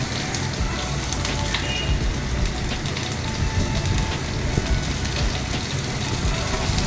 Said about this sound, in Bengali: এই যে কুচনো পেঁয়াজ তেলে দিচ্ছি।